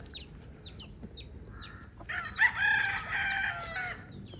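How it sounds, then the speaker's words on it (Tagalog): Chickens cluck and call nearby outdoors beside a house in the Philippines in a series of short repeated notes, followed by a louder, drawn-out rooster-like squawk. "Ayan ang aming mga manok dito sa labas."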